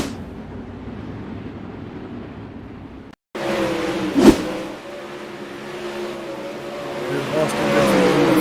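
Winged sprint car engines roaring around Lanier in an esports racing simulation, a brief dropout then loud, sustained engine drone with rising revs and a passing car, under commentator talk.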